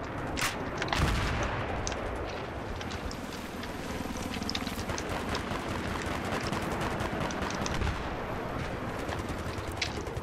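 Rifle fire in the Battlefield 3 video game, with single-fire shots cracking over a dense, rumbling battle din of explosions and other gunfire. It stays loud and busy throughout, with a heavy blast near the start.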